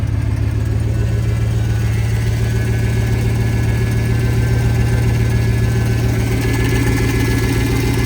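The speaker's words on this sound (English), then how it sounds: "It does sound like it has an exhaust leak over here." A GMC Sierra or Chevy Silverado pickup truck engine idles steadily with a deep low rumble and a faint raspy, ticking edge from an exhaust leak, running continuously without revving.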